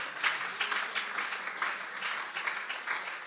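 A church congregation in Paris applauds, a steady wash of many hands clapping together at a moderate distance, swelling and easing in soft pulses without a break.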